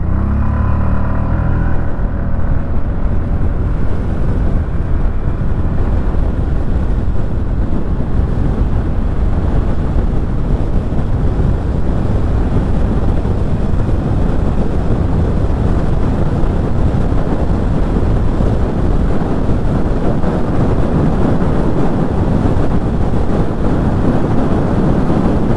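A 2025 Hero Destini 125 scooter is ridden along, its engine drone buried under a steady, loud rush of wind buffeting the microphone throughout.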